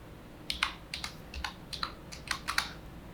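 Keys clatter on a computer keyboard while HTML code is entered, a few quick bursts of close, crisp clicks separated by short pauses.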